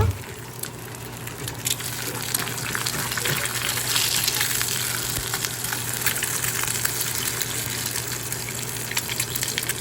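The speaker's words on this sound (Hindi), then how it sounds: "अंडे बन रहे हैं" Eggs frying for breakfast alongside keema in a home kitchen, a steady loud sizzle and hiss running the whole time with a constant low hum beneath.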